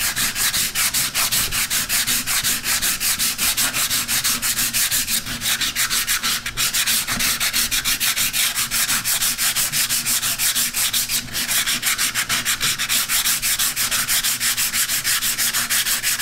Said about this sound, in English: just using 80 grit paper like before, but I'm gonna go ahead and be very light with my sanding